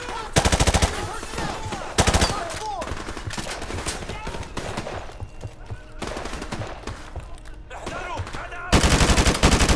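Rapid bursts of automatic AK rifle fire in the video game Modern Warfare Remastered, loud and close, in several strings of shots with background battle noise between them.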